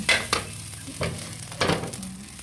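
Simple fried rice is stir-fried over a firewood fire, a constant close sizzle broken by several scraping strokes of a spatula against the pan, with no talk.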